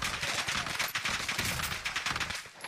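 Rapid bursts of automatic gunfire in the Warzone battle royale video game on the Fortune's Keep map, loud, dense and sustained rattling volleys with no speech over them.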